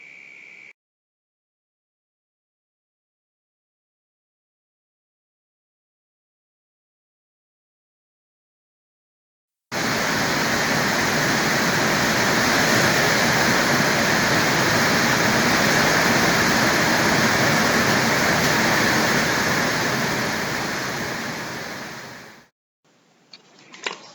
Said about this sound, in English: Wow, what a lovely thunder shower that was.